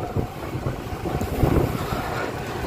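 Strong coastal wind from the beach at Cilacap buffets the microphone during a long road bike ride, a steady low roar and rumble with no speech.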